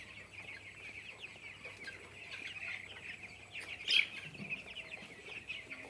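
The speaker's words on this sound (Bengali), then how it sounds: "এই যে এইটাতে মুরগি হয়" Broiler chickens in a farm shed of about 700 birds cluck and chatter steadily as a dense, close flock, with one louder, sharper call rising briefly near the middle.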